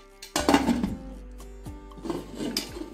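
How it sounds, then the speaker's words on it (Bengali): Metal lid set onto a pressure cooker pot sitting on a gas stove, with its whistle and rubber gasket removed, giving a few clanking, scraping hits of metal on metal, close up. "এবার ঢাকনা দিয়ে ঢেকে নেব।"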